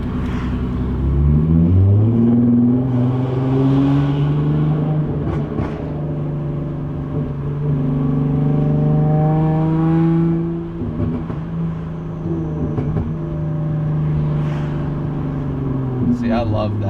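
A B8 or B8.5 Audi S4 revs hard while driving under a bridge, its engine note rising and falling through several loud sweeps, with a few sharp backfire pops near the end.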